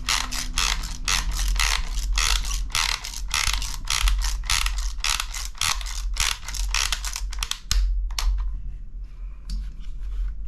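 A CF20 Stalker follower mechanism being wound, a rapid run of close, loud ratcheting clicks and mechanical whirring with a few short pauses, alone without talk.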